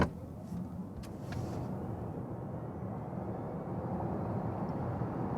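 Volkswagen ID4 Pro AWD electric car accelerating hard from 0 to 90 km/h in sport mode, a steady low road and tyre roar rising slightly in level, heard from inside the cabin without speech.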